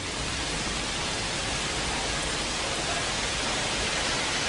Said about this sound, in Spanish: Está lloviendo. Esto es una música de una lluvia.